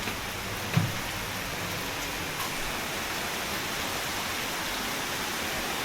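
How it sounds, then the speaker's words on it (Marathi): Heavy rain falls at night in Mumbai during the first monsoon downpour, a dense, steady hiss of rainfall with no breaks and one faint knock early on. "तसा पाऊस पण कडक आहे वाटतं"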